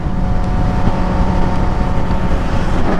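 A 2024 Suzuki GSX-S1000 being ridden on an open road, its engine a loud, steady drone mixed with heavy wind rush across the mic and no talk.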